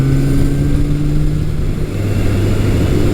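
A 1982 Suzuki GS750E motorcycle rolls along steadily while cornering, its engine droning loud and close with an even hum and a slight dip in pitch partway through, with no one talking.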